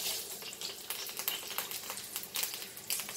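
Smoked Goan sausages fry gently over a slow fire, giving soft irregular crackles and pops above a low sizzle, quiet and close with no voices.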